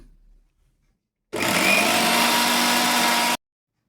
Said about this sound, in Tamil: இவற்றை மிக்சியில் போட்டு சற்று கரகரப்பாக அரைத்து எடுக்கவும்.